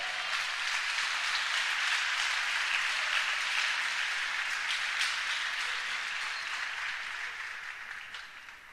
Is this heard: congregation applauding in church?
yes